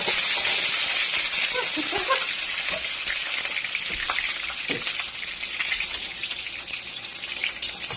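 Fennel seeds, garlic cloves, curry leaves and whole shallots crackle and sizzle in hot oil, a close, steady frying hiss with sharp pops early on that settles into a softer bubbling.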